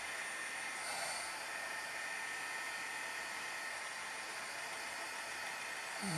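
A hair dryer blows steadily on watercolor paint stamped onto cards, a continuous close, even whoosh of air and motor hum lasting throughout with no talking.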